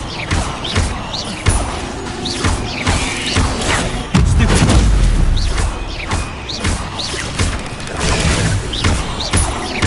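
An Incendio fire spell is cast in a video game during a spider fight, a loud whooshing burst with heavy thuds, crashes and crackling bursts around it.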